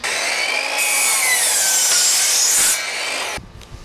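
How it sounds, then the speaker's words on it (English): A power saw cuts through a wooden plank for a trailer floor, a loud, steady high-pitched whine close up that runs for about three seconds before stopping abruptly. "I marked the line that I'm gonna cut it off at."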